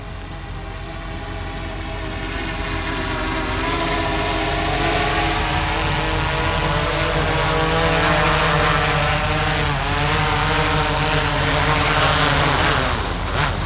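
Small drone aircraft motors whine steadily through a takeoff demonstration, a dense rising-and-falling buzz of harmonics that wavers as the craft tilts, loud and close throughout with no talking.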